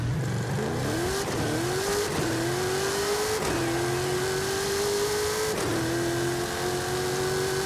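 A race car in Forza Horizon 5 runs near top speed, its engine a steady loud drone that climbs in pitch, with several quick gear shifts pulling it down before it rises again.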